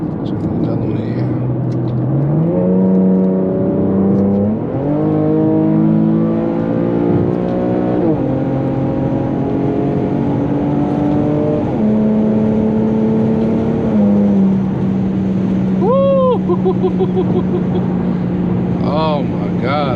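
An Infiniti G37 makes hard acceleration pulls, its engine note rising steadily and dropping at each upshift through several gears, loud and close from inside the cabin, with brief talk near the end.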